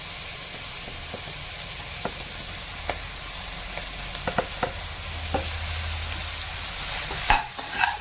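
Onions and tomatoes sautéing in a pan for paneer butter masala, a steady soft sizzle with occasional sharp clicks of a spoon stirring against the pan.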